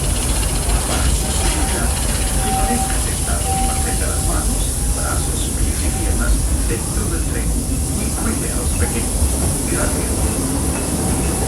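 A Walt Disney World Railroad steam train ride at Magic Kingdom carries a constant loud rumble and hiss of the moving train, with faint whistle-like tones and a voice talking over it.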